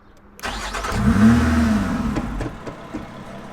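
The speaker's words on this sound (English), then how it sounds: "we're about to start her up. Engine start." A Lotus 3-Eleven 430 sports car engine cranks and fires up, rising to a throaty rev before settling into a rumbling idle, close and loud.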